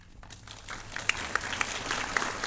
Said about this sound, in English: You clap, that's good